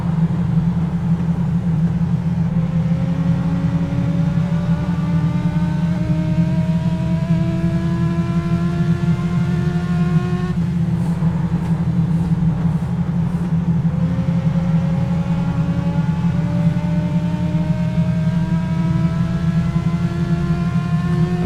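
Legends Ford '34 Coupe race car on the Thompson Speedway track in a VR racing game, engine droning steadily and loud throughout, with repeated rising revs through the gears and brief lifts between them.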